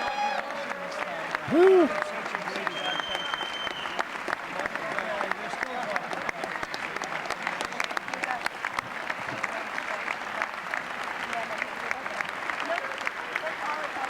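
Sustained applause fills a large chamber at the State of the Union address, a dense crackle of many hands that carries on throughout, with a single cheer early on.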